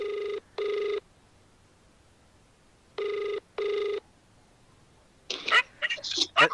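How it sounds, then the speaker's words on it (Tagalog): An outgoing phone call to a ride driver produces two pairs of short electronic ringback tones separated by silence, then a voice answers on the line. "Tawagan natin si Pops."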